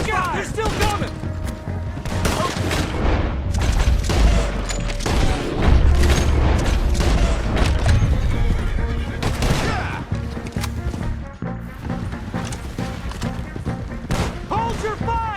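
Repeated gunshots and heavy booms ring out during a horseback chase in Red Dead Redemption II, with hoofbeats and shouting voices mixed into a loud, continuous stretch of action.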